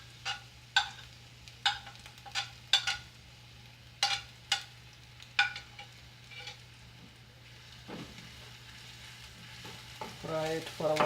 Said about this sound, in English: just fry it a little bit, and then also add green chili